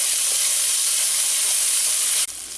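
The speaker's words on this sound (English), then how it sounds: "Next I'm going to add the ginger, and we're going to saute this for about less than a minute." Ginger sautéing in hot ghee or oil gives a steady, dense sizzling hiss that holds evenly throughout, with a brief dip near the end before resuming.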